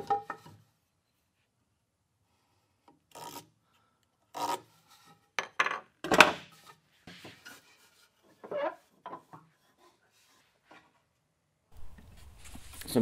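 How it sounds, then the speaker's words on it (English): A wood chisel pares away a knife wall scored around a workpiece for a traditional-joinery soccer goal, a few short close scraping strokes separated by silent pauses. "I'm just using my chisel and chiseling away that little knife wall there to set up a good point for my saw to start."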